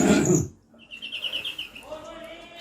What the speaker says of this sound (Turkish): Ama arkadaşlar Mustafa abinin kuşları maşallah